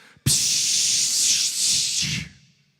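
A voice imitates the long, steady air hiss of a bus's air leveling system, lasting about two seconds before trailing off.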